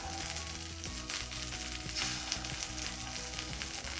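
Freshly flipped egg frying in a pan on a breakfast sandwich, giving a steady loud sizzle with a low hum underneath and no talking.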